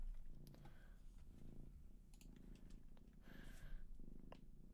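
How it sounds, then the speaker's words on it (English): A cat purrs close by, a soft, quiet rhythmic rumble that swells and fades with each breath, with a few faint clicks in the background. "Mel, my cat."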